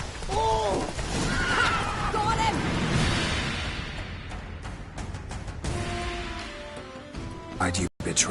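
Roach the horse neighs in The Witcher 3: Wild Hunt with a loud, wavering whinny up close, followed by hoof clip-clops and scuffling. Characters talk over much of it.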